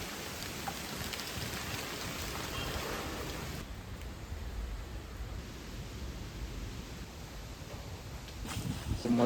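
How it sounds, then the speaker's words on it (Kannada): The first rain of the season falls on a garden in a steady hissing patter that briefly softens partway through and then swells again toward the end. "ಸೊ ಮೊದಲ ಮಳೆ ಕೂಡ ಬಂತು"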